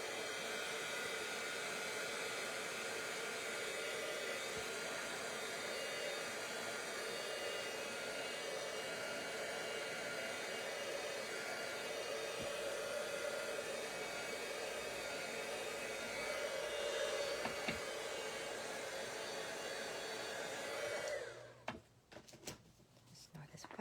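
Heat tool blowing steadily for about 21 seconds to dry orange ink on a Stampin' Up! craft card, a close, even whooshing hum that cuts off near the end, followed by brief handling clatter.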